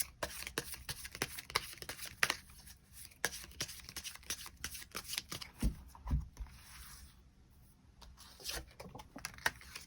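Tarot cards shuffled by hand close up: rapid, crisp riffling and slapping in irregular bursts throughout, with a brief pause of softer handling midway.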